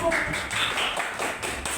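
Classroom students applaud a presenting group, with scattered hand claps and taps from a small room, moderate in level, with some voices mixed in.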